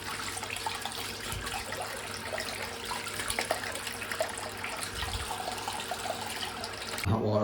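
Hot water runs steadily from a tap in a cold house, a faint continuous splashing stream with a soft voice briefly over it near the end.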